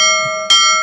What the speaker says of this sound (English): that's a very impatient ship bell today